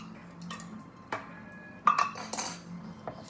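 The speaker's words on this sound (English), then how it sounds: "Stir it up." Green chili sauce stirred in a pot, with a spoon scraping and clinking against the metal in a few light, irregular knocks and taps.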